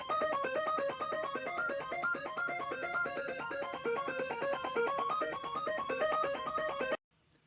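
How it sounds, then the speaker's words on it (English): A synth arpeggio lead from a glitchhouse track runs fast, evenly stepped notes with LFO auto-pan sweeping them across the stereo field. It plays bright and steady, then cuts off abruptly. "The next lead element is this arpeggio that I wrote."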